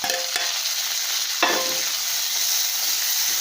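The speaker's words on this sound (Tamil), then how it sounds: "இது நல்லா வதங்கிட்டு இருக்கட்டும்." Onion and tomato sauté in oil for a Kerala-style kara kuzhambu, a constant close sizzle with a few spatula scrapes and clicks against the pan.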